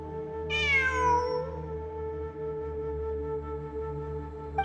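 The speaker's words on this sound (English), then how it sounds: "I'm not hearing things. It really is a cat." A cat lets out a single clear, drawn-out meow near the start, high and sliding downward, over a steady humming background with low tonal drones, then the sound settles into the hum alone.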